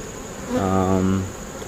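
A honeybee buzzes close by at an opened hive that has been failing, its tonal drone swelling loudly for about a second over a softer steady hum of the colony.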